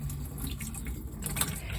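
Water pours steadily into a watering can, a continuous close splashing and trickling fill that runs without a break and with no voices.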